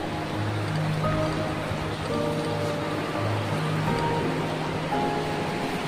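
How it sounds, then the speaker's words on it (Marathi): Steady rushing, gurgling water of a monsoon-season stream on a farm near Neral, continuous and fairly close, with no voices over it. "खळखळ वाहणारं पाणी."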